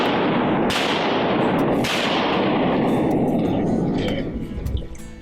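Gunshots during a duck hunt in Arkansas, sharp blasts standing out over a loud, continuous wash of outdoor noise, with voices talking nearby.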